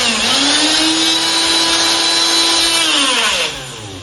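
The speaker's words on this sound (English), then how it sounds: "you need to retract the machine fully" A Portaforce hydraulic rebar bender retracts with a loud, steady high-pitched hydraulic whine that holds for about three seconds, then drops in pitch and fades as the stroke ends.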